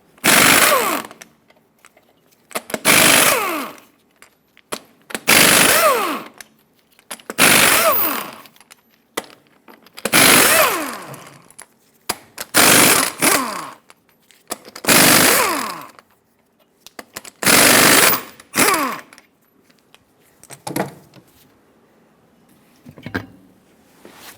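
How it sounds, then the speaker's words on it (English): Impact wrench removing eight 24mm lug nuts from the front wheel of a 2003-2009 Dodge Ram 2500, heard as loud repeated rattling bursts of about a second or two each, separated by brief pauses, with no talking. "Use a 24mm socket and remove all 8 of your lug nuts."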